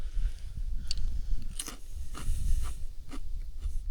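Crisp crunching bites of freeze-dried apple with chewing, a few sharp crackly snaps over a low background rumble, outdoors at Boggy Plain in Kosciuszko National Park.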